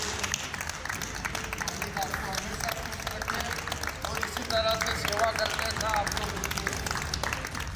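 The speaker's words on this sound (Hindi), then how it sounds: "अस्पताल के कर्मचारियों ने तालियां बजाकर खुशी जताई।" Hospital staff clap for a recovered patient leaving the ward, a steady patter of many hands mixed with crowd murmur, under a talking voice throughout.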